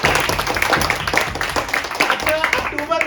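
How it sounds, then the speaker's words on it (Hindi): An audience claps along at an All India Radio event with dense, overlapping rhythmic clapping. The clapping is loud and continuous throughout and is mixed with crowd voices. "आकाशवाणी से प्यार है, वो भी ताली बजाएं।"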